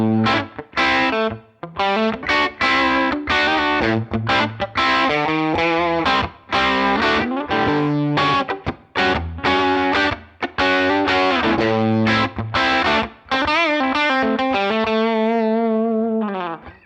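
Kiesel Aries electric guitar played through an Axe FX model of a 1959 Fender Bassman amp: continuous crunchy distorted chords and riffs with chorus-like shimmer, loud and close, with brief pauses between phrases, no talking.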